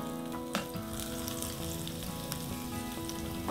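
Onions sizzle steadily in hot oil in a pan for a mutton curry with coconut milk and raw mango, a continuous close frying hiss with a few soft clinks of stirring and no voices.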